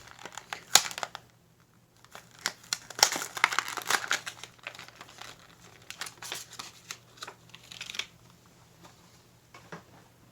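An Auto World diecast truck is pried out of its plastic blister card, with close, irregular bursts of crinkling and cracking plastic separated by short quiet gaps.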